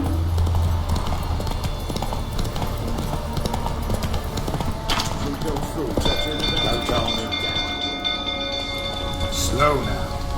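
Hooves of the horse Roach gallop in a steady clip-clop rhythm through The Witcher 3 video game, with in-game voices and fire ambience around it.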